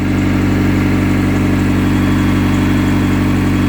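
A car engine with a leaking exhaust idles loudly and close up, a steady, unbroken rumble with no change in pace.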